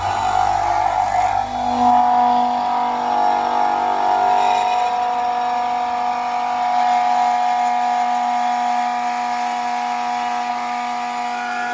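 A Case 2388 combine harvester engine starts and settles into a steady, loud running drone with a constant whine, heard close and alone without talk.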